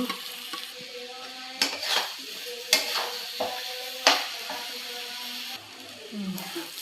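Potatoes sautéing with ghee and onion in a pan for muri ghonto, a soft sizzle broken by several sharp spatula scrapes and clinks against the metal.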